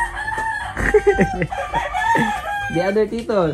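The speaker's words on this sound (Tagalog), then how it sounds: "There, the chickens." Farm chickens with a rooster crowing loudly and close by, plus some clucking, while people talk over the calls.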